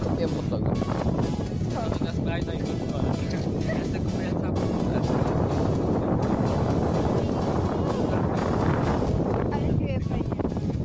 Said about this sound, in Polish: Ale wieje fajnie, no.